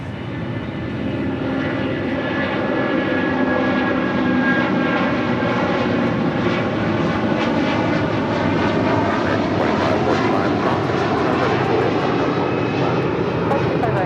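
An American Airlines Airbus A319 arriving at LAX gives a loud, steady engine drone with a whining tone that holds for the whole stretch.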